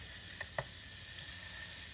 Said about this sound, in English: Sausage goes into the oil. Slight sizzle.